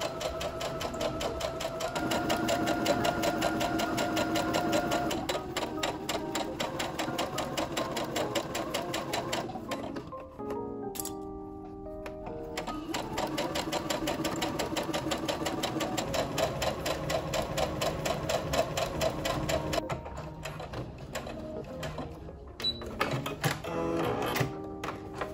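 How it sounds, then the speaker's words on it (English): A home sewing machine runs a straight stitch joining the tiered skirt panels of a summer Lolita dress, whirring steadily and close, with a brief stop midway and shorter pauses near the end. "Then I just sewed all the tiers together using a straight stitch on my machine."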